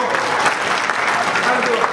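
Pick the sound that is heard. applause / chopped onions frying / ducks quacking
applause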